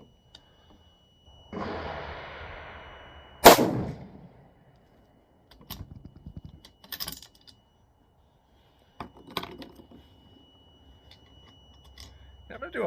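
A .308 Remington 700 rifle firing a Hornady 178-grain AMAX hand load gives one sharp, loud report that decays quickly. Quieter clicks and handling noises come before and after it.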